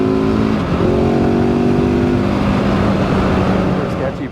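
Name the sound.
Gasgas ES700 motorcycle engine accelerating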